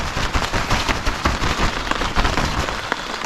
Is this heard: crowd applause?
no